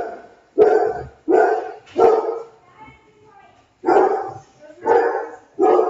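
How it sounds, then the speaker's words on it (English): Several dogs bark in loud, close bursts, about five sharp volleys separated by short pauses, with no one talking over them. "Pardon my dogs."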